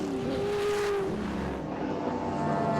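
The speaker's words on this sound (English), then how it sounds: "Away in race 1 for the Group U historic sports sedans." Group U historic sports sedans race at Winton, including a Charger and a Stanza, their engines a steady mid-distance roar with one car's note rising and falling as it passes.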